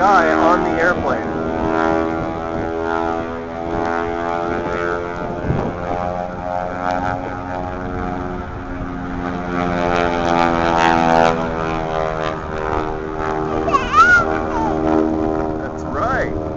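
A propeller airplane carrying a wing walker at an outdoor air show drones with a steady, strongly harmonic engine tone that swells slightly in pitch, continuous throughout, with people talking faintly underneath.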